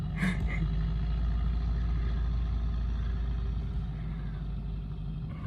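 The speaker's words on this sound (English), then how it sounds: "there goes our airplane." Steady low engine drone with a constant hum and faint higher whine, a small Citabria propeller plane taxiing at moderate distance, unchanging throughout.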